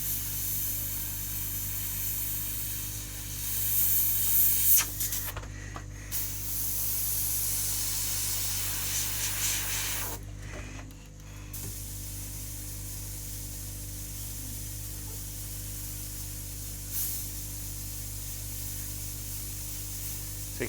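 An airbrush hisses steadily as it sprays sepia paint onto a canvas, with the trigger pulled back so air bubbles through the paint cup. The hiss drops out briefly twice, then the continuous spray resumes close by.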